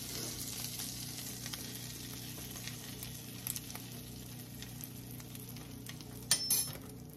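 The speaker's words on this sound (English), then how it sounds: "So what you want to do is you want to brown that flour." Bisquick baking mix browning in melted butter in a pan, a quiet steady sizzle running throughout with occasional soft stirring clicks near the end.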